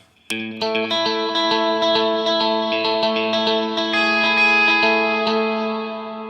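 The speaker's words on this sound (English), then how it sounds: "let me make you hear what it gives with delay and reverb" An electric guitar rings out sustained chords and picked notes, each washed in echoing delay repeats and a lingering reverb tail.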